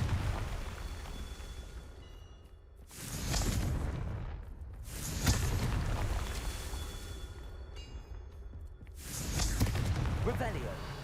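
Confringo blasting spell explosions in the Hogwarts Legacy video game, three loud, deep booming blasts with rumbling tails spaced a few seconds apart over a steady background drone.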